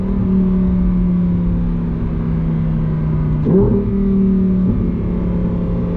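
A 2025 Lamborghini Huracán Tecnica's V10 drones steadily, then briefly revs up with a rising pitch as the exhaust opens before settling back to a steady hum, close and loud.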